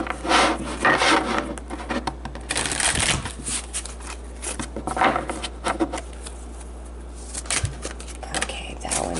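Tarot or oracle cards shuffled twice in a row, a dense papery riffling and rubbing that runs steadily through the whole stretch at close range, with no talking over it.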